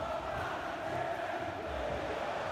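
Stadium crowd noise from an EA FC match between Internacional and Vasco in the Brasileirão, a steady dense roar of fans with no distinct peaks, rising in anticipation of a shot.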